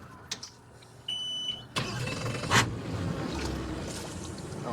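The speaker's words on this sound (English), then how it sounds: "So let's fire this V10 up and see what she sounds like" A Mercury 400HP V10 outboard on a boat is started. A starter whine and a loud catch are followed by a steady, rumbling idle, preceded by a few faint beeps.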